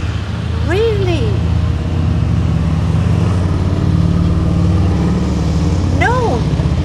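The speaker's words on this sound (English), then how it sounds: "you hear this traffic going by" Road traffic streams past on a street in a steady, continuous rumble of car and truck engines, with brief tonal swoops from passing vehicles and a voice speaking over the traffic noise.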